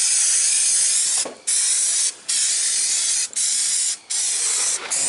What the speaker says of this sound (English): let's get this sprayed in here while we've still got some paint working